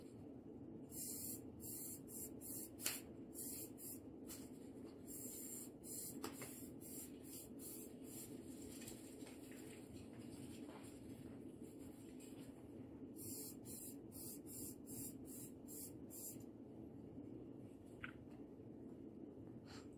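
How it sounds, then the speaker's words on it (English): Forcefield shoe protector spray is applied to a shoe in short hissing bursts, some clustered and repeated, over quiet room noise with a faint background hum. "now it's open and ready to spray"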